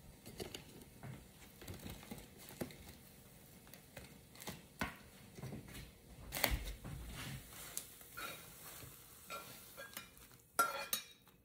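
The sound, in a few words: eggs being scrambled in a pan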